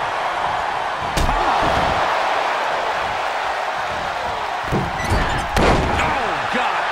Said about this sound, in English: Carefully placed stomp to the arm.